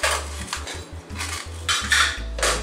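A spoon scrapes the soft pulp out of split drumstick pods, making a series of short rasping strokes in an uneven rhythm with light knocks, close and fairly loud with no talking.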